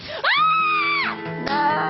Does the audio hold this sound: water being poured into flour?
no